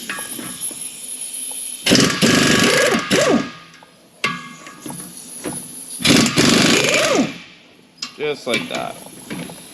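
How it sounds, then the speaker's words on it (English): Snap-on impact wrench loosening the knife bolts on a Vermeer BC1500 wood chipper: two loud rattling bursts of hammering, each about a second and a half long, separated by quieter gaps. Someone speaks briefly. "I have a snap-on impact here. Okay, so we're going to go ahead and we're going to loosen these and take them right out."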